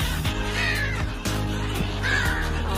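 Migrating seagulls at Bang Pu call loudly and close by, with repeated harsh, cawing cries in quick succession over constant outdoor background noise.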